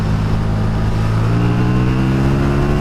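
KTM Super Duke R motorcycle engine pulling hard under acceleration, a loud steady roar with rising harmonic tones throughout, close and continuous with no talking.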